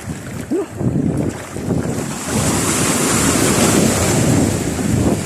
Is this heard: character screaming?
no